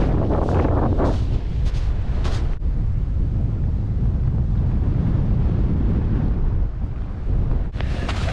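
Strong wind buffeting a microphone on an outdoor hike through a melting Midwest savanna forest preserve, a constant loud low roar and rumble with brief gusty fluctuations and no talking.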